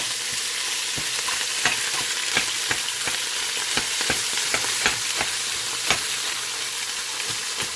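Crumbled sausage browning in a pan over turned-down heat, a continuous dense sizzle with frequent sharp pops and occasional stirring, close up and without voices.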